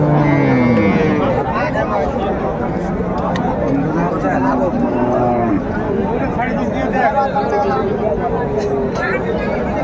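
Sahiwal cows moo repeatedly, near and loud, over the constant chatter of a busy crowd at a cattle market.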